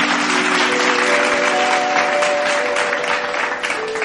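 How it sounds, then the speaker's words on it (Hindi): Loud, steady applause from a stage-show audience welcoming a singer, with sustained tonal music or hum beneath the dense clapping throughout. "जोरदार करताली सहित स्वागत करवा"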